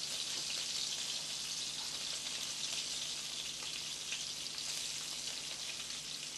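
Homemade meatballs fry in a hot pan, giving a steady, close, continuous sizzle and crackle with no breaks and no voices.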